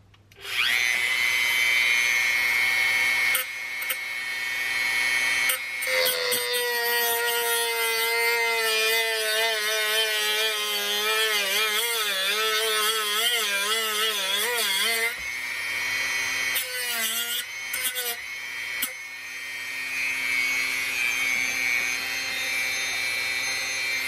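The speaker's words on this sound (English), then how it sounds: "I'm just going to take the old Dremel tool to it." A Dremel rotary tool grinds through an old part of an RCA 7-TR-2 tape recorder, a loud high-pitched whine that wavers and dips in pitch under load, with brief pauses and restarts.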